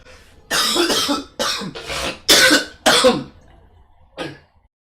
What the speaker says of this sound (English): here comes the coughing